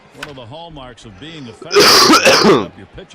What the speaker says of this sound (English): There's my cough. Say hello to the cough.